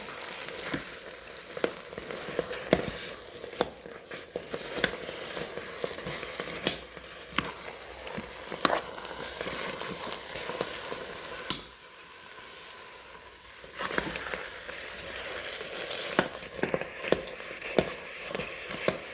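Cassava simmering in coconut milk in an open pot bubbles and sizzles steadily while being stirred and mashed, with soft squishing and scraping close by and a brief quieter pause midway.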